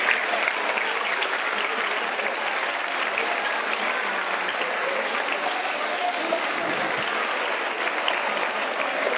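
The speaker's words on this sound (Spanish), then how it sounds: "un aplauso para el padre Antonio y el padre Andrés." Steady, dense applause from an audience at a Málaga romería gathering, honoring two priests; sustained crowd clapping at moderate loudness, evenly spread across the whole stretch with little else on top.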